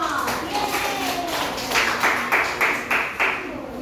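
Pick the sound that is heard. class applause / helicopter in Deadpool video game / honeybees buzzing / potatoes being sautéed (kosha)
class applause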